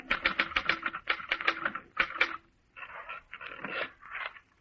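Mechanical typewriter typing in brisk bursts of crisp key strikes, with pauses and a scraping carriage movement near the end, close and alone as a radio drama sound effect.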